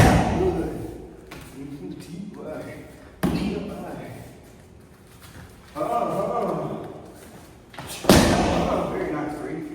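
Sharp slaps and thuds land on Muay Thai pads during a boxing padwork session, spaced a few seconds apart, while a coach calls out instructions throughout.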